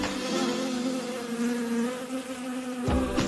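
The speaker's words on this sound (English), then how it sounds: "Bees live in a hive." Bees buzzing near a hive, a steady close droning hum with layered wing tones, continuous for about three seconds with a brief shift near the end.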